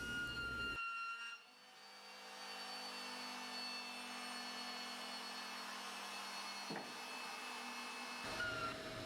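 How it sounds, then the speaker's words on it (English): A chamfering machine deburrs metal uprights, putting a 1 mm chamfer on the edges, with a steady loud mechanical whir and hum running throughout, briefly dipping as the cut changes. "Deburring the uprights on the chamfering machine, putting a nice large 1mm chamfer on all the edges."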